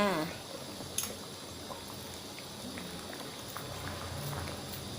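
Chicken massaman curry with onion and peanuts simmers in a pot, a soft continuous bubbling close by beneath a woman's speech.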